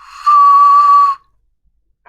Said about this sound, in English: Actually, it's an ocarina.